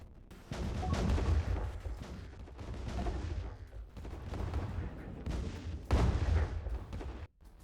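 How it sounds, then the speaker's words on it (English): An attack fleet bombards a planet in the space strategy game Distant Worlds 2, heard as rolling, rumbling volleys of booming fire in several sustained waves, fairly quiet overall and without voices. "We go ahead and bombard this planet."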